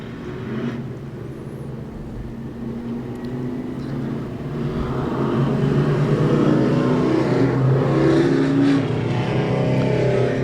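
Race cars lapping during a heat at Claremont Motorsports Park produce a continuous broadband engine roar that swells gradually louder as the field comes closer.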